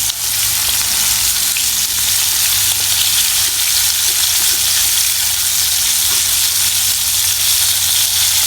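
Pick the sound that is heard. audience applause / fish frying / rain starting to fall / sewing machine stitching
fish frying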